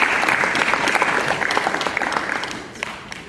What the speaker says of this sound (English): Je voudrais qu'on applaudisse pour Estherine.